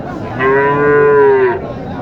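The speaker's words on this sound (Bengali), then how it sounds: "সব কিছু মিলে এটা ভালো মানের একটা গরু" A single long, loud cow moo at a cattle market, lasting about a second, close to the listener with a quiet background.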